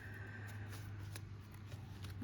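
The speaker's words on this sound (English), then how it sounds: "I'm gonna just shuffle it over here." A deck of oracle cards is shuffled by hand, heard as soft, quick, papery riffles and taps over a low steady hum, faint and close with no talking.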